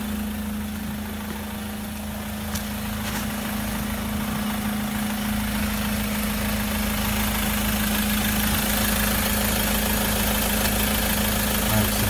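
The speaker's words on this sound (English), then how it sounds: "I don't know whether you can hear me or not with the engine running." A Citroen Relay diesel van engine idles steadily with a low, even hum and constant rumble, close and continuous throughout, with faint clicks early on and no talk.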